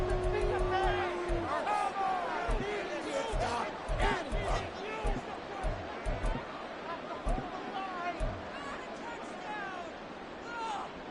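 A crowd roars and swells in an American football video game, loud and continuous across the whole stretch as the final minute plays out, with a commentator's voice speaking over the noise.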